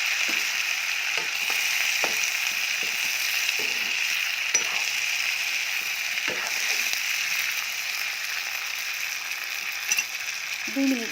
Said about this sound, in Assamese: দুই মিনিট সময় ভাজি ল'ম।